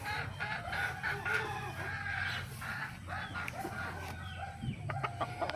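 Backyard chickens cluck and a rooster crows nearby in Pulilan, Bulacan, a busy barnyard chorus of overlapping bird calls with steady background noise.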